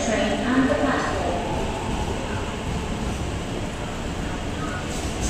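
Continuous rumble and rattle of an MTR East Rail line R-train at a station platform, steady and fairly loud throughout, with bilingual platform announcements playing over it.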